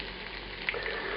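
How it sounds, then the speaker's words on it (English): Potatoes sautéing in oil with sausage over low heat, a continuous soft frying sizzle with a faint pop, heard alone and close. "If you want to saute these potatoes in the oil, get some nice color on them"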